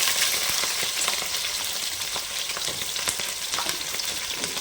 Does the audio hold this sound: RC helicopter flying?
no